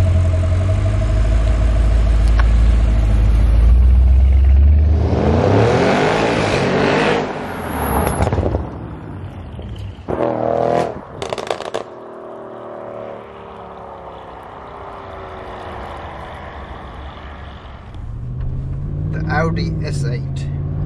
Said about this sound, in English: Audi S8, 4-litre, twin-turbo V8 engine, and what an engine this is.